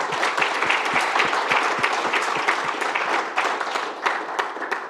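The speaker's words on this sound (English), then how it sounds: "Big round of applause for Nathan." An audience at a tech conference talk applauds the speaker: loud sustained clapping from many hands, dense and even, with some individual claps standing out near the microphone.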